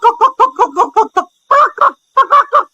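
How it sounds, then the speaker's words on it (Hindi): A cartoon rooster gives a loud, close run of rhythmic clucks, about seven quick ones, a short pause, then two more bursts of clucking. "कुछ देर बाद राहुल एक मुर्गे में बदल जाता है"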